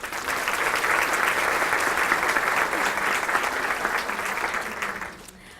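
Steady, dense applause from an audience at a 2016 women's awards ceremony honoring community members, loud and sustained for about five seconds before fading out at the end.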